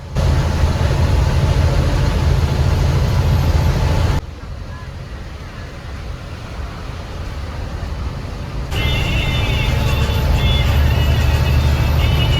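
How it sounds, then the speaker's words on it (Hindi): Interior rumble of a bus speeding along a highway toward Moradabad, a loud steady engine and road drone that dips quieter midway before surging back, with a voice talking over it. "आज हमारी बस थोड़ा तेज चल रही है।"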